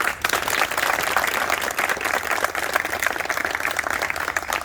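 Dense, loud applause from an audience at a traders' association speech continues without a break from start to finish, with no speaking voices on top.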